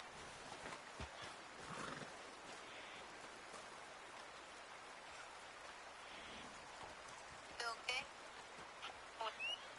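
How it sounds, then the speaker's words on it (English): In the video game Red Dead Redemption 2, a horse gives short whinnies near the end amid faint hoof sounds and soft rain-like ambience, all quiet and distant. "let me hop on the horse with you"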